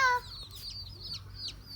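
Chickens cluck in short, soft calls spread across the moment, with a brief higher squawk at the start, heard fairly close in a quiet rural yard.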